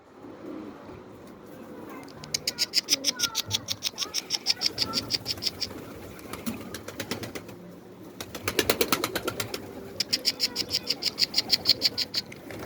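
Rapid rhythmic flapping of bird wings in repeated bursts, close by, with faint background noise between flurries.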